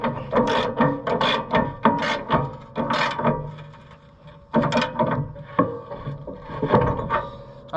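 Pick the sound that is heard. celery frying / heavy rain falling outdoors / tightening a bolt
tightening a bolt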